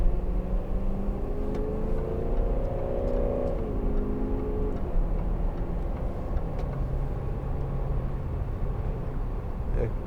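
A 2012 Range Rover TD V8 diesel accelerating, its engine note rising steadily and then settling into a continuous drone under road and wind noise, heard from inside the cabin.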